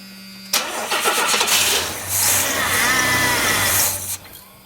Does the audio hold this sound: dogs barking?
no